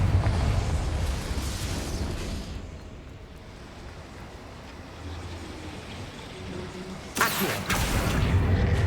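A Confringo blast spell explodes in the video game Hogwarts Legacy, a loud low rumbling burst that swells, fades into a dull roar, then a sharp second crack near the end.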